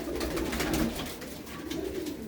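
Pigeon cooing in a loft of kept pigeons, soft repeated throaty coos close by over a steady low background hum, with no one talking.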